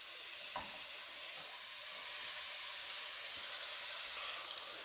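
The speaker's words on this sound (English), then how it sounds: "Next, we're going to try and brown off our sausages." Sausages brown in a frying pan, making a steady, dense sizzle that holds at an even level with a few faint clicks and no talking.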